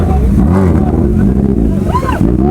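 A Kawasaki Z900 motorcycle being pushed through a river in Ladakh, its engine revving hard and loud close by with a rising and falling pitch, over rushing water and background voices.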